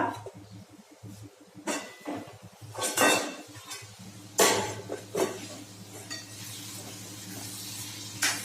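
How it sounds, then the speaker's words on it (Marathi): A metal lid clanks as it is lifted off a pot of pumpkin curry cooking on low heat, with several close clinks and scrapes of utensils against the pot over a faint steady background hum. "झाकण उघडून बघूया।"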